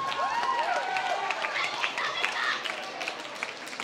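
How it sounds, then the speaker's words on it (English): An audience at a fashion show claps in a steady, moderately distant round of applause, with scattered whoops and crowd noise mixed in. "Let's give them one more round of applause."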